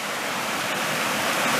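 Cold mountain stream at a creek crossing along a wooded hiking trail in Shenandoah National Park, rushing water making a steady, dense broadband hiss close by, continuous with no talk over it.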